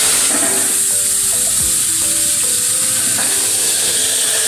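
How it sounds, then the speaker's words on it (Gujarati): Tempering spices crackle and sizzle loudly in hot oil while making Kathiyawadi gathiya shaak, a close, continuous frying hiss with a few faint clinks of a utensil underneath. "એ રીતના વઘાર કરવાનો છે આપણે"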